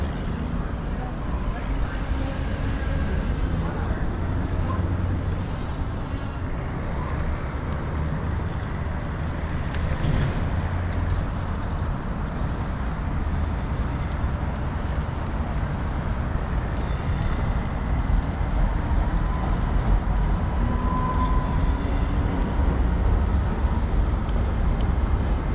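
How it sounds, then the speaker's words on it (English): A heavy freight train carrying dirt rumbles past, a loud, continuous low roar that holds steady for the whole stretch. "there's a dirt train coming."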